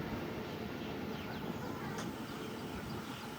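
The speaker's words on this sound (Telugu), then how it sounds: "వెనకాల ఇంకో ట్రైన్ ఉంది." Another train runs behind on a busy line past Marripalem, heard from aboard the Simhadri Express as a steady, dense rumble of rolling wheels with no breaks.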